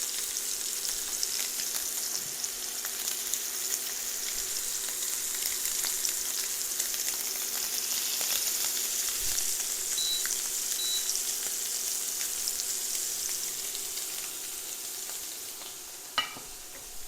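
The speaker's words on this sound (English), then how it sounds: "While the scallops are searing in the pan" Steady, loud sizzling from scallops searing in a hot pan, continuous throughout, with a faint beep and a light clink near the end.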